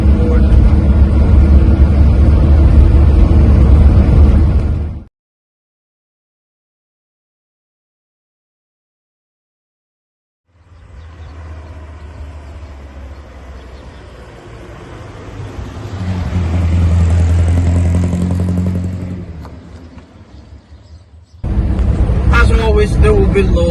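A 1958 Morris Minor 1000 saloon engine labouring uphill in fourth gear with two people aboard, a loud droning hum that cuts out into silence, returns, swells and then rises again.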